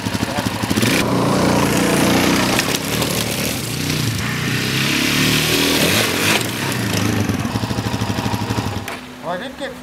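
A 2001–2002 Suzuki DRZ400S dirt bike ridden hard at higher speed in first or second gear, its engine a loud, sustained close roar that holds steady for most of the run before easing off near the end.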